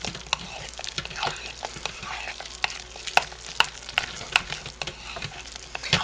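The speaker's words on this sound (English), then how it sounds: "And now I'm stirring in the lavender." Lavender being stirred into a batch of homemade lye soap, with a spoon scraping and clicking against the pot in irregular strokes over a low steady background.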